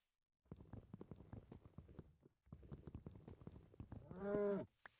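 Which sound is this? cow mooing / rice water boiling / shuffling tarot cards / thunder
cow mooing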